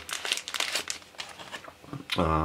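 Plastic packaging from an Alcatel One Touch 4015D POP C1 smartphone box is crinkled and torn open in quick, close bursts, followed by a short voiced sound at the end.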